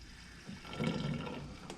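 Water running into a Chevy 283 V8 engine block for a 1974 Chevy Nova build, a faint, steady gurgling fill with a slightly fuller swell partway through, close by.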